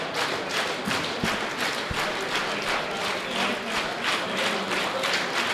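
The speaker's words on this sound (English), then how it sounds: "Hear the crowd going." A crowd at the 2017 World Open Powerlifting Championships claps and cheers in a rhythmic, pulsing wave before a 470 kg squat attempt, loud and continuous.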